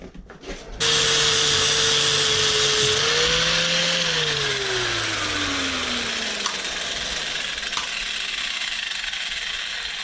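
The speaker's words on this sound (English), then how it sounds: "Just grind that down a little bit." A power grinder whines up as it bites into a motorcycle rear set part during a home repair, with a loud, steady metallic grinding that slowly drops in pitch under load and has no talking over it.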